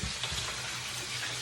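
Chicken fries in hot oil with a dense, continuous sizzle and crackle, close and steady.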